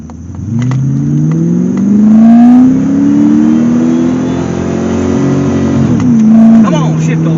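A 1984 Chevrolet Corvette C4 engine accelerating hard up close, pitch climbing steadily, then a quick drop and rise as it shifts. Someone talks briefly over the engine.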